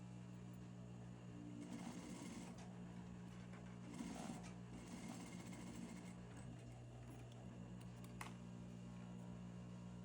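A sewing machine runs steadily and fairly quietly, stitching trouser fabric onto an outer waistband, with the motor hum swelling slightly at a few moments as the seam is sewn.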